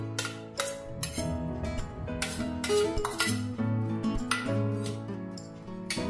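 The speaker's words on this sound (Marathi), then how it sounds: "इथे मी एक ताट घेते. ताटामध्ये सारण तयार करणार आहे." A metal plate clinks and rattles on a kitchen counter as a ground stuffing mixture for stuffed tomatoes is transferred onto it, with steady close clinks of dishes and utensils throughout.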